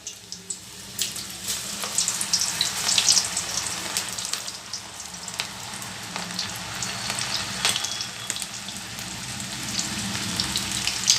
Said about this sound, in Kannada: ಈಗ ಇದನ್ನು ಎಣ್ಣೆಯಲ್ಲಿ ಹಾಕೋಣ ನೋಡಿ ಎಣ್ಣೆ ಕಾದಿದೆ